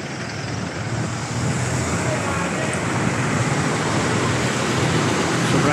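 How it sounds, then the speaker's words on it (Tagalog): Busy street traffic near San Antonio High School in Parañaque on a flooded morning, a steady loud wash of road noise and passing vehicles that builds slightly and continues throughout. "Traffic ngayon."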